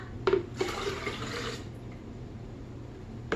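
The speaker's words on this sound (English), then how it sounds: "Might as well just pour that whole thing in here." Pomegranate juice poured from a vessel into a container, a brief liquid splash and trickle lasting about a second and a half, with a couple of knocks from handling, then quiet room tone.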